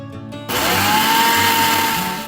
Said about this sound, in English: Make sure you just add a little water to grind it to a fine paste